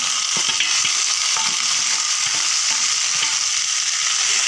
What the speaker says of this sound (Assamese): এতিয়া কচুৰ লতিখিনি ইয়াতে দি দিছোঁ